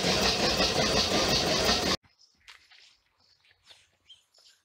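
A Stirling engine fitted with PTFE seals runs loud and steady with a dense mechanical whir, then cuts off abruptly, leaving faint scattered clicks and ticks in a quiet room.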